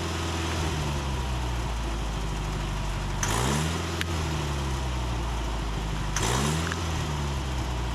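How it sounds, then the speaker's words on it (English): The engine of a 1982 Condor boom lift idles steadily, then twice surges up from low to high idle with quick revs, a loud mechanical drone that settles back between the bursts. "when you hit one of these controls, it revs the motor up so it doesn't stall out, gives it more power"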